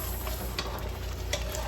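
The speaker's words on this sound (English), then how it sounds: "the tomato sauce has been frying" Tomato sauce for jollof rice frying steadily in a pan, a continuous close sizzle with occasional faint stirring ticks, no voices.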